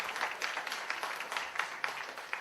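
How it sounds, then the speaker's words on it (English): An audience claps steadily at a film festival signing ceremony, a dense spread of many hands at moderate level with no voices over it. "Go ahead and clap"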